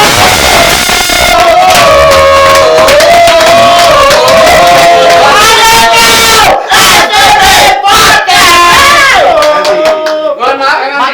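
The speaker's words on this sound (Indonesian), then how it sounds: "Tepuk tangan dong." Studio audience at a game-show podcast taping clapping, cheering and whooping loudly for arriving guests, a dense continuous crowd roar throughout with shouted voices over it.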